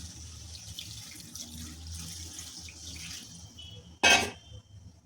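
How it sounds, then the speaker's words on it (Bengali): Hot water is poured into a rohu fish curry cooked with green tomatoes. A soft, continuous pouring splash runs under low kitchen background noise, then a brief, sharp, louder splash comes near the end. "এরপর আমি দিয়ে দিচ্ছি গরম জল"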